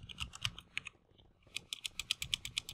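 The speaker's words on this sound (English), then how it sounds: "Oh, this keyboard's so fantastic." Rapid keyboard typing, close and crisp, in two bursts separated by a short pause, with clacky keystrokes in a steady rhythm.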